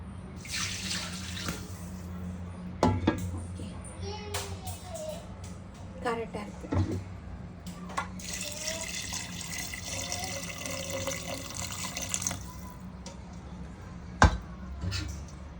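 Tap water runs into a pot to cook rice for mutton biryani, with a steady splashing stream in several bursts and clatter of vessels, while someone talks over it.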